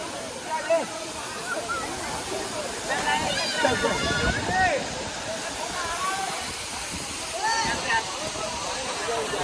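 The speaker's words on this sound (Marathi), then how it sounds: "सुंदर असा वॉटरफॉल" Kalmandvi Waterfall roars with a steady, close, broadband rush of falling water, and people chat over it throughout.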